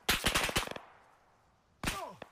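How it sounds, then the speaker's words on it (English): A rapid burst of gunshots in a survival video game hits the player. It is loud and close, trails off, then a second sharp volley arrives with ringing, whizzing tails. "Why did I get shot again?"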